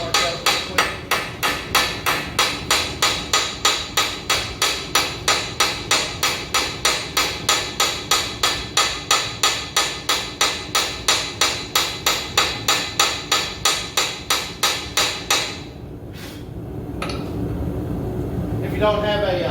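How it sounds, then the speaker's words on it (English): Steady, rapid blows of a hammer on metal at a blacksmith's forge, smoothing out hammer marks, ringing in an even rhythm for about fifteen seconds before stopping, followed by a low rushing background. "Take all the hammer marks out real quick."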